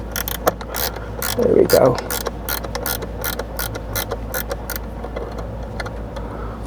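A wrench tightens the nut on a starter battery terminal, giving a few close, light ratcheting clicks and metallic ticks in a steady patter, with a short spoken remark over them.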